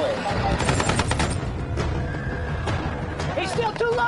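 Wartime gunfire cracks in rapid bursts amid shouting voices and a horse's whinny in a chaotic battle scene, loud and close.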